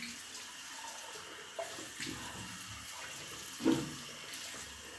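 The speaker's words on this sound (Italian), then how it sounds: "Mettiamo un pochino di acqua" Water from a tap running into a shaving bowl, a quiet steady trickle with a few soft splashes and clinks partway through.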